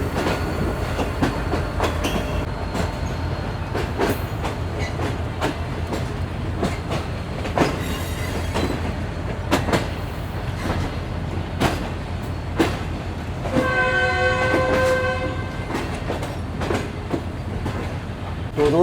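Shalimar Express passenger train hauled by an HGM 30 locomotive runs near Lahore, with a steady rumble and rhythmic clickety-clack of wheels on rails, plus brief metallic squeals and a horn-like tone midway.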